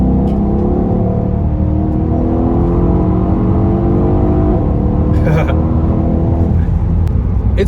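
Mercedes-AMG E63 S sedan of the W212 generation with a twin-turbo V8, pulling hard to overtake, its engine drone steady and loud from inside the cabin throughout, with a brief rustle partway through.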